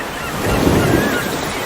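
Rough sea surf off Fernando de Noronha island, a steady broad wash of breaking waves swelling slightly mid-way, with wind noise on the microphone and no voices.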